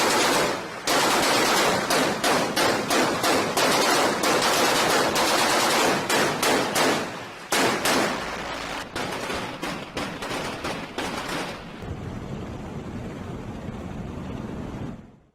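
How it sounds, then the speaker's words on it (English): A US Navy destroyer fires its guns downrange in loud, rapid bursts of gunfire that run almost continuously for about eleven seconds, then give way to a quieter rumble. "Let's see how much ordnance a United States Navy destroyer can put downrange in about 10 seconds."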